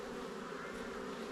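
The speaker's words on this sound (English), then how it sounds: "this colony has got quite a lot of bees in it" Honey bees in an opened, populous colony of mostly workers produce a dense, steady buzzing drone that fills the whole stretch evenly and closely, with no voices over it.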